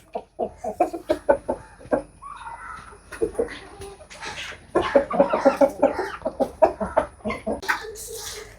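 Chickens eating feed give close, rhythmic runs of short clucks, steady at first and then faster and denser, with no talking.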